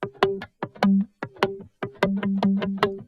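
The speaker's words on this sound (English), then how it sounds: "we have this sort of like guitar muted pluck" Short, muted guitar plucks with a damped, percussive attack in a syncopated pattern, each note cut off quickly, clear and alone in an electronic remix.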